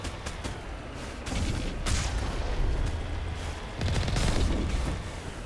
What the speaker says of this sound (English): Oh, they shooting at me.